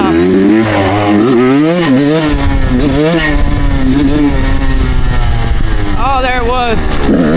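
A dirt bike engine labouring in too high a gear, loud and close, its revs droning continuously and repeatedly rising and falling throughout.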